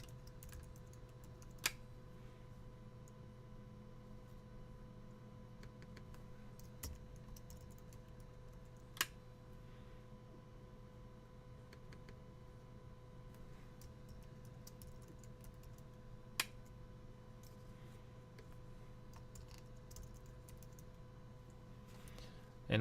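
Soft, faint computer-keyboard typing while a password is entered, with a few scattered sharper clicks over a low steady room hum.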